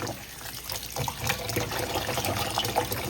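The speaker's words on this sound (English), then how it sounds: "we're gonna wash all our veggies, everything that we're gonna use. Just give them a nice rinse" Tap water runs steadily over vegetables being rinsed in a kitchen sink before chopping, a continuous close trickle and splash at moderate level with no talk.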